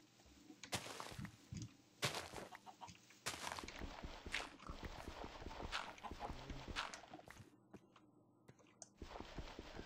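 Chickens clucking in the Minecraft survival game, with repeated short clucks and game sound effects across the clip and a few brief gaps.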